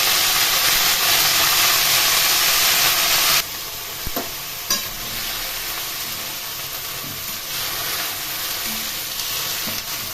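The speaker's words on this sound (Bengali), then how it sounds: "মৌরি ও কালো জিরে এগুলো দিয়ে একটু ভেজে নিয়ে এর মধ্যে শাকগুলো দিয়ে দিই" Red spinach leaves tossed into hot oil with fennel seeds, black cumin and green chilli, giving a loud steady sizzle that drops to a softer frying hiss with a few scattered stirring knocks; no talking.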